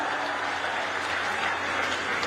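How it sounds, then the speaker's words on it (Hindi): An audience at a Hindi Day event applauds, a dense, even round of clapping from a crowd, close and continuous throughout. "ताली वाली बजा के बताओ"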